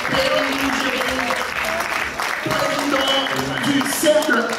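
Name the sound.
audience applause for the panel guests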